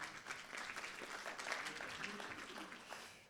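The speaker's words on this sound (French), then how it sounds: "on peut l'applaudir quand même" Steady applause from a conference audience at a regional tourism colloquium, fairly faint and continuous throughout.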